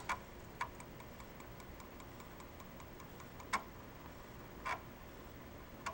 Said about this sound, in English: you do not appreciate the sound that a floppy drive makes